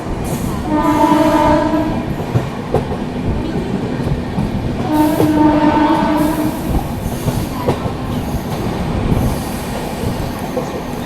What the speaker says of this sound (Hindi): और यहाँ पर हम कोई स्पेशल को ओवरटेक कर रहे हैं, दादर गोरखपुर स्पेशल।